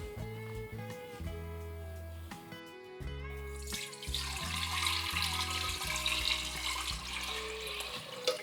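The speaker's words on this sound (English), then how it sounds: "now we add our strained liquid back to the pot with our sugar" Strained elderflower liquid pours back into a pot holding sugar, a steady splashing rush that starts partway through and continues over a quiet background music bed, with no talking.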